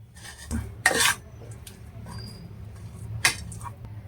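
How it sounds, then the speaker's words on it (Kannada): A utensil scrapes and clinks against a bowl while mixing a garlic bread paste with coriander, chilli flakes and oregano, giving a few sharp taps and soft stirring rubs at close range. "ಈಗ ನೀಟಾಗಿ ಇದನ್ನ ಪೇಸ್ಟ್ ಮಾಡ್ಕೊಳ್ಳೋಣ"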